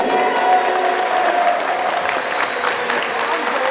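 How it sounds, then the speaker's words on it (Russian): Stormy applause from a crowd at a university sports competition awards ceremony, dense continuous clapping with sharp individual claps standing out and a faint tonal sound running underneath. "Бурные аплодисменты победителю внутривузовской спартакиады общекомандном зачете."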